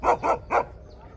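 A dog barks three times in quick succession, close and clear, then falls quiet.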